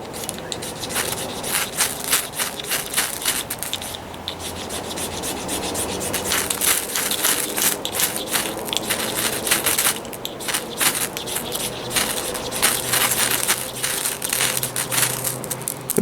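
A metal scraper rasps repeatedly along a ferro rod outdoors in a park. The strokes are loud, close and gritty and come in a continuous rhythmic series.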